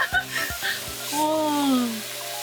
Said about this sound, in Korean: 이제 고기 굽기 시작해요. 지글지글, 지글지글.